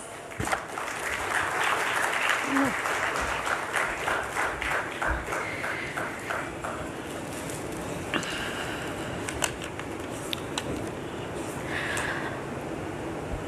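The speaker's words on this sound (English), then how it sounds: "Welcome, sir, to the dais with a resounding applause" A crowd applauds steadily throughout, dense clapping filling the room at moderate loudness, with a few sharper claps standing out.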